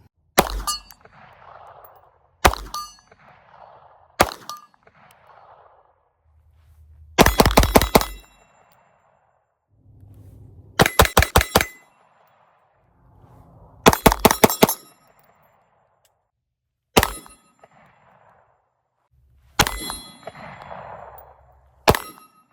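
Handgun shots striking a steel target at 50 yards, each crack followed by a bright metallic ring; single shots spaced apart alternate with quick strings of several rapid back-to-back hits, loud and sharp against near silence.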